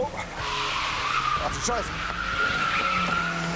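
Tires screech as a car skids during a police pursuit, a sharp squeal over steady road and engine noise, with agitated voices shouting in German over it.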